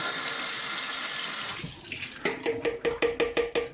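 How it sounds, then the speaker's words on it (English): Tap water runs steadily into a container while chemicals for a Kodak Flexicolor C-41 LORR kit are mixed, then changes to a quick rhythmic series of sloshing swirls as the container is rinsed nearby. "Again, give it a rinse."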